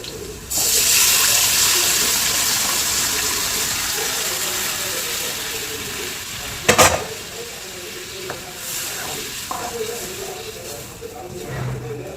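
Fish curry poured into a pan of fried garlic and onion sets off a loud, sustained sizzle and bubbling that fades slowly, with a clatter of a utensil midway.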